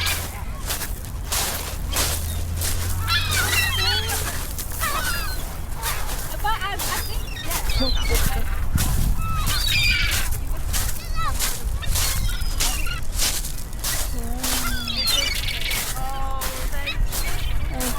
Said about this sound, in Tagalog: May mga seagulls dito